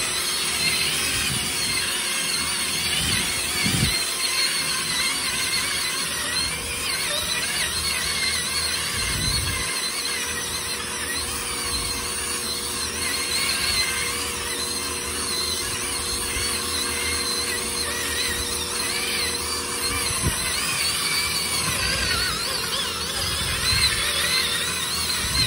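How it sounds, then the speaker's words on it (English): A power drill spins a blue cleaning pad during a cleaning job, giving a steady, continuous whirring and grinding hum with faint scrubbing variations, sustained for around twenty-five seconds at even loudness with no talking. "It's on the drill. You're going to be using the other blue pad."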